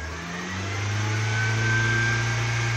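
A Honda car engine revs up and holds a steady high idle above 2,000 RPM, a close, loud, sustained drone that climbs in pitch early on and then stays level, with no talking.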